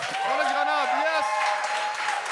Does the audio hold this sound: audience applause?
yes